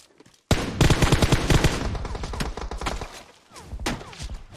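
Loud, close automatic gunfire from the PUBG Mobile video game, on the Sanhok map in third-person view: a sudden sustained burst of rapid shots that keeps up with brief dips and restarts.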